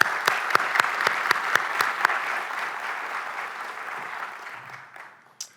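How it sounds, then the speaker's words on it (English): Audience applause at a university awards ceremony, a burst of clapping with a few sharp early claps over a steady crowd patter that gradually fades out. "A round of applause."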